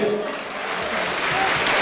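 Sustained applause from a crowd at a community association solidarity night in Istanbul, a dense wash of clapping that holds steady and loud throughout.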